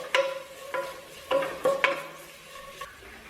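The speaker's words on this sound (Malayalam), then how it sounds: "ഒരു 1/4 ടീസ്പൂൺ അടുത്ത് ഗരം മസാലയും കൂടെ ചേർത്ത് കൊടുത്ത് നന്നായിട്ട് വഴറ്റിയെടുക്കാം." Garam masala and spices sautéed in a pan for Kerala-style fish molee, with a steady soft sizzle broken by several sharp scraping stirs of a spoon against the pan, close and clear with no talk.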